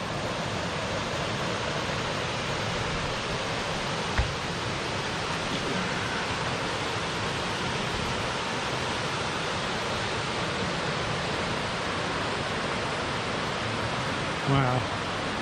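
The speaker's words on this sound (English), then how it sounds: "Check out that waterfall." Waterfall in the Great Smoky Mountains National Park in spring, a steady broadband rush of falling water filling the scene without pause, with a brief faint voice near the end.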